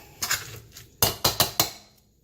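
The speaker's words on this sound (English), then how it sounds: "just continue mashing this until it's nice and smooth" Potatoes mashed by hand in a metal pot, a soft scraping burst followed by four sharp, evenly spaced clanks of the masher against the pot, close and alone with no talk.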